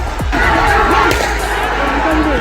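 Crowd commotion in Durjanpur village in Ballia after gunfire, a dense, loud wash of many voices with shouting and scattered cries, steady throughout, with some speech mixed in.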